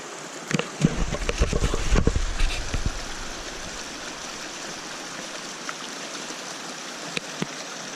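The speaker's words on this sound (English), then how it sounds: "Water's not too high, so I really could just wade through." A wilderness stream in the Maroon Bells-Snowmass backcountry flows steadily and close by, with a louder rushing, splashing patch near the start as someone crosses, then a constant even wash of water.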